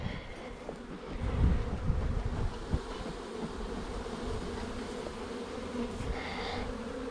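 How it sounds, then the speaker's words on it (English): A steady, dense buzzing of many bees being smoked out of a nuc box fills the air, close and continuous, with a few bumps and a brief rise in intensity early on. "we'll start to drive the bees out of the box"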